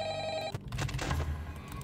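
Telephone ringing in the horror video game Ultra Custom Night, a short electronic ring that cuts off after half a second, followed by muffled game noise, all fairly faint.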